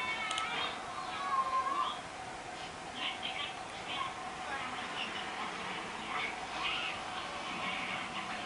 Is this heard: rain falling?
no